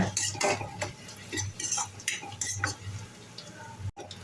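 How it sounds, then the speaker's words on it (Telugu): Thinly sliced onions for a paneer masala curry frying in a pan, with a soft sizzle under frequent clinks and scrapes of a spatula stirring against the pan, close by. "సన్నగా కట్ చేసుకున్న ఉల్లిగడ్డలు ఉల్లిగడ్డలను బాగా వేయించుకోవాలి"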